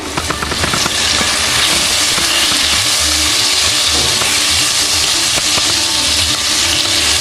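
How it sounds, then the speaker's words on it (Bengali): Potatoes fry in a covered pan for a Bengali banana blossom and prawn dish, giving a steady, loud, close sizzle and hiss with faint clatter from stirring throughout. "একটু ঢাকা দিয়ে ভাজলে আলু ভাজাও হবে, একটু সফটও হয়ে যাবে"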